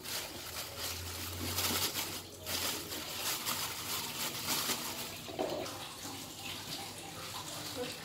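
Water runs and splashes steadily as a placenta is washed before burial, a constant close pouring and sloshing sound with faint voices in the background.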